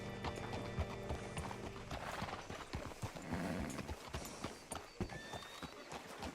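Steady clip-clop of horse hooves on hard ground in Red Dead Redemption 2, close and rhythmic, with a brief whinny and some faint ambient noise.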